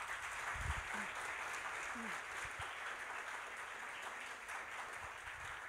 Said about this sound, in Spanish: Quiero pedir un fuerte aplauso para el maestro Álvaro Gopián